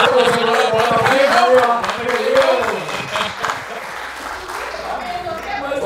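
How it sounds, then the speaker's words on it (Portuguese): Audience applause at an Open Finance conference, with clapping mixed with voices and possible cheering throughout, fairly loud and steady before easing slightly toward the end. "Vamos aproveitar esse momento para começar uma salva de palmas para a Salt."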